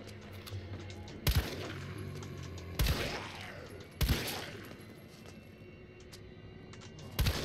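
Gunshots at a zombie in Resident Evil 3 Remake: four loud, sharp reports spaced irregularly over several seconds, each with a short echoing tail, over a quiet background with faint talk.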